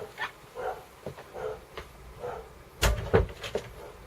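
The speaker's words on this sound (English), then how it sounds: "Now my dog's going to start barking" A dog barks indoors in a short series of muffled, moderately distant woofs, spaced irregularly, with a louder thump near the end like a door closing.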